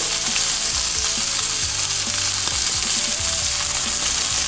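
Salmon fries loudly in a cast iron skillet, a dense, continuous sizzle and spatter close up, with no voices.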